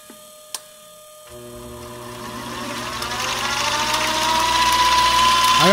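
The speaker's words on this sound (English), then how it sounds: "I also just put steel gears in the headstock, and it's a little bit noisier than it was with the plastic gears" A mini lathe with steel headstock gears starting up after a couple of clicks, its motor and gear whine rising into a steady loud mechanical hum with a faint rattling ratchet-like texture, close and without speech.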